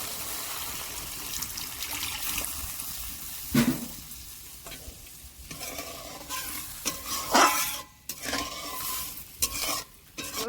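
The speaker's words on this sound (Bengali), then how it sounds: "মশলা তেল ছেড়ে জল দিয়ে দিচ্ছি" Spices with sugar sizzle and crackle in hot oil for a tel koi fish curry, then water splashes in with a louder hiss, followed by stirring and clinks of a utensil against the pan.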